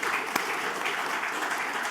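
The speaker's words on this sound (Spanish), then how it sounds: "hacemos un aplauso para las tres, ahora que hemos terminado" Audience applause fills a hall at a talk on artificial intelligence, public policy and gender bias at Palau Macaya, a steady, dense clapping wash with one sharper clap standing out early.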